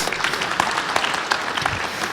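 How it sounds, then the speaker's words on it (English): An audience at an aviation security conference session applauds steadily for about two seconds, a dense wash of clapping with no talk over it. "Applause for Dini, please."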